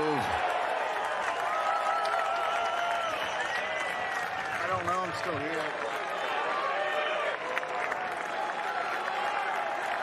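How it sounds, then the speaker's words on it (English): A golf gallery at the final round of the 2023 PGA Championship applauds and cheers in a continuous wash of clapping, with a commentator speaking over the crowd. "people cheering your every move."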